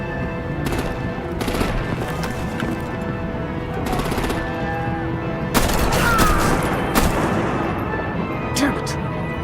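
Battle gunfire in the Batman: The Enemy Within video game, with loud, dense machine-gun bursts and heavy artillery blasts rattling on without pause for the whole stretch.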